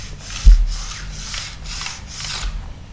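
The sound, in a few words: sharpening stone removing the burr on a ski edge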